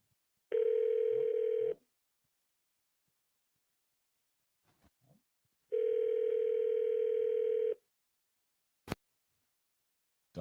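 A telephone call rings while waiting to connect. Two long ringback tones sound, separated by a pause filled with faint clicks.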